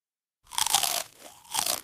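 Crunchy bites into a plate of chili cheese fries topped with chorizo, green chilies and green onions, two sharp close crunches separated by chewing, with no one talking.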